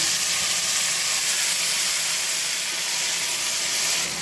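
Tomato puree hitting hot oil in a pan while cooking an onion curry, giving a loud, steady sizzle and hiss that holds without a break throughout.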